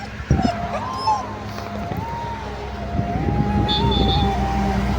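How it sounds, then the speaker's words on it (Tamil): A stray dog gives a long, wavering high whimper that rises and falls for several seconds, close by, over a low rumble of passing traffic outdoors. "அந்த நாய் விடவே இல்லை, என் கூட தான் வருது"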